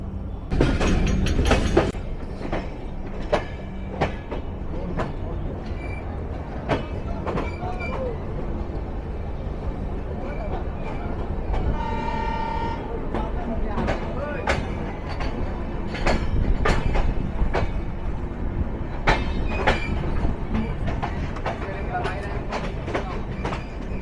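The 705 Ekota Express rolls along the rails out of Dhaka toward Tangail in a continuous rumble with rapid wheel clicks, a brief high squeal partway through, and loud passing clatter.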